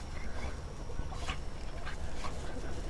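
Dogs whimper at a backyard chicken farm, a few faint high whines over steady outdoor noise and rumble, no talking.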